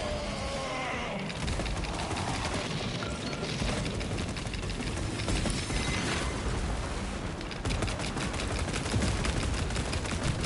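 Sustained gunfire and explosions from the video game Warhammer 40K: Space Marine 2 form a dense, continuous barrage of rapid shots and booms at steady loudness throughout.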